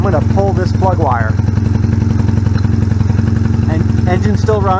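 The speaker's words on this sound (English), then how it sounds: "And engine still runs, good, but there was no change in the sound of the engine" A Honda Rebel 250 motorcycle engine idles with one spark plug wire pulled, a loud, steady, even chugging with a voice faintly over it throughout.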